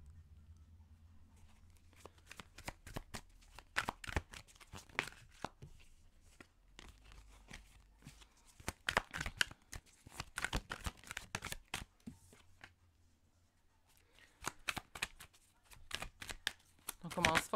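Tarot cards shuffled by hand in repeated quick riffling bursts, close and fairly soft, with short pauses between bouts.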